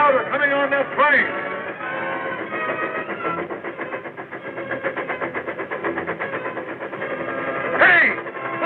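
A train in a 1936 western film, its engine chugging in a steady, rhythmic pulse with a whistle blast near the start and end, loud and continuous with an old, boxy tone.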